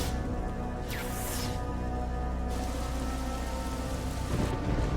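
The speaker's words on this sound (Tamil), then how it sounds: "கொற்ற மழையில நனைஞ்சிட்டு நிக்கிறாக்கா." Heavy rain pours down in a steady, dense roar, with a distant rumble of thunder underneath and no voices.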